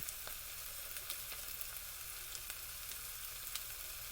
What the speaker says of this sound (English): I'm going to flip it into the skillet to brown up a little bit better.